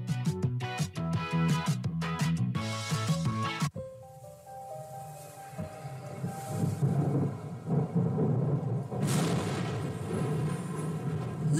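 Rain and thunder used as a sound effect in a radio announcement: a brief stretch of music gives way to a rumbling thunder roll and dense rain hiss that swell and fade.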